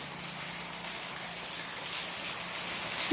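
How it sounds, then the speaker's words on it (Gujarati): Steady rain falls outside, a soft, even hiss of drops that carries on without a break and with no voices. "અત્યારે વરસાદ સવારનો આમ તો ચાલુ છે"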